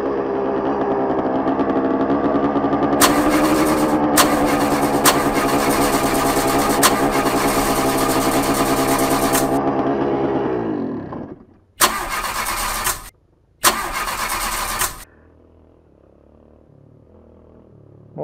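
A Yamaha DT dirt bike on a trail ride idles and then revs hard in loud sustained bursts up close. The engine sags and stops, then two short sharp revs follow before it goes quiet.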